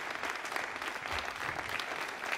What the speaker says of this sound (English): There's the final good news and a lot of applause.